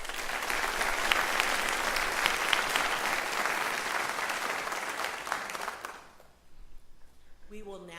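A hall audience claps for a lecture speaker, dense sustained applause lasting about six seconds before fading into quiet room noise with a voice beginning at the end.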